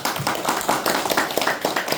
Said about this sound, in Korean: 각 후보조에게 다시 한번 좀 큰 박수 부탁드리겠습니다